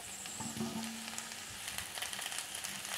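Tomatoes go into a pan of frying young drumstick pods and potatoes for a vegetarian curry, oil sizzling steadily up close with a brief louder hiss and soft stirring, no talk.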